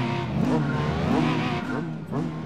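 Racing car engine revving with squealing tires in the Gran Turismo 4 video game, loud and continuous, with rising and falling engine pitch as the car accelerates and slides.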